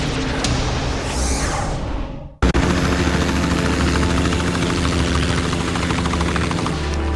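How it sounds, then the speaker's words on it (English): Helicopter with a steady, loud rotor and engine roar close by, cutting out briefly near the start and then resuming continuously, set at sea during a naval patrol boarding. "is boarding the helicopter now"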